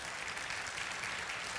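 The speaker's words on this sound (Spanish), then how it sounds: "Den un aplauso bien fuerte a Jesús" A church congregation claps for Jesus, a dense, even patter of many hands that sounds faint and distant and carries on without a break.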